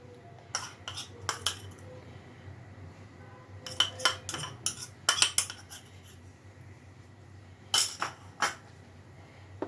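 A spoon clinks and scrapes against dishes while cooked red amaranth greens topped with grated coconut are served, in scattered bursts of bright metallic taps with quiet pauses between.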